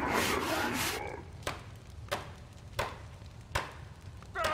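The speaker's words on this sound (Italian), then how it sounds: "prima lo spengono e poi lo riparano con il martello" Hammer strikes during repairs in Spore Galactic Adventures, a brief rush of noise followed by four evenly spaced sharp knocks, each a clear, fairly close hit over a quiet hum.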